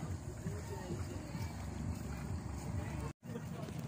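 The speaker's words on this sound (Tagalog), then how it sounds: "first time sumakay ng bangka" Wind and water noise roar steadily on an open boat ride at sea off Morong, Bataan, with voices talking over it and a brief dropout near the end.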